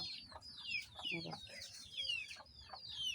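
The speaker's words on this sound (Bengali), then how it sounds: "এই যে দেখেন দেখেন মুরগি মোরগ" Hens and a rooster cluck near a coop with a small ladder, repeated short calls overlapping in a busy, close cluster with faint voices around.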